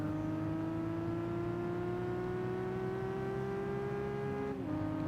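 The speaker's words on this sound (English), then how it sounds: "It sounds kind of like a GT3." Engine note of a Porsche 997 GT3-style car in Gran Turismo 5 winds slowly upward in one long, continuous rev before dropping abruptly at a gear change, loud and close.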